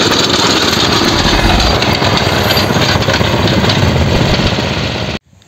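A vibrating potato digger's small engine runs steadily and loudly at close range in a grassy field, a dense continuous drone that cuts off abruptly near the end.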